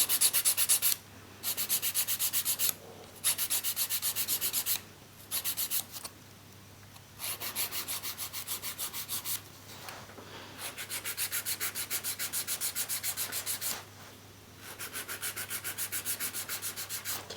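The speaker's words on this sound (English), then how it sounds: "And now it's all over filing." A nail file works over acrylic nails in rhythmic rasping strokes that come in repeated runs broken by short pauses, close and steady throughout.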